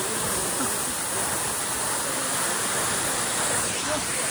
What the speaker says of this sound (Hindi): यही हो वाटरफल चाहिँ माथि देखि रहेछ